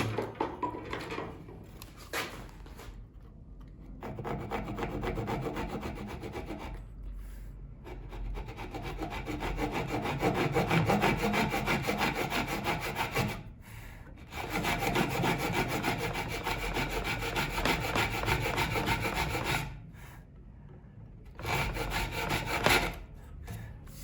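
A saw cuts through a broken wooden door threshold. Close, rasping strokes repeat in long runs, broken by a few short pauses.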